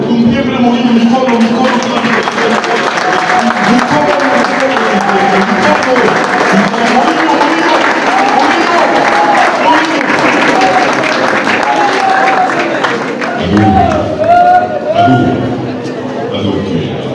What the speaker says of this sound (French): On applaudit d'abord pour tous les efforts.